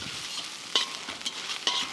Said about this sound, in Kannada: ಹಾಕಿ ಅದನ್ನು ಸ್ವಲ್ಪ ಈ ಥರ ಹುರ್ಕೋಬೇಕು